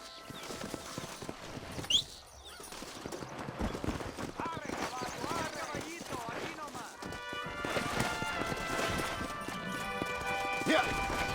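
Rapid hoofbeats of horses galloping in Red Dead Redemption, steady and close, with a brief whinny early on and music swelling underneath.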